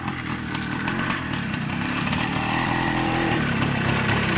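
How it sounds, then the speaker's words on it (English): A big-bore two-stroke single-cylinder enduro motorcycle engine of about 400cc runs close by with a loud, rough, buzzy drone that rises slightly and holds steady throughout, with no talk over it. "That's a big bore 2-stroke right there, folks."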